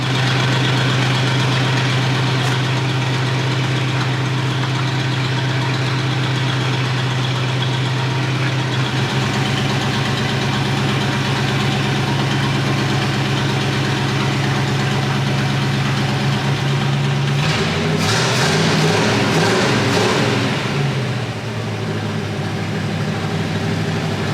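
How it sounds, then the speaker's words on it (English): A 50-year-old crane truck engine, recently fitted with a new Carter fuel pump and carburetor-fed after sitting abandoned for ten years, runs loud and close with a steady idle hum and knocking, then shifts pitch and roughens near the end. "All right, so we got the engine running again"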